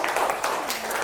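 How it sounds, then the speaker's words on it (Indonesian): Short burst of classroom applause from fourth-grade pupils clapping for a group, a dense patter of small hands at close range. "Tepuk tangan buat kelompok 4."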